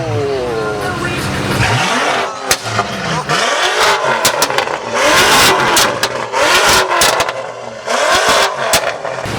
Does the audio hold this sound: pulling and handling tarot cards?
no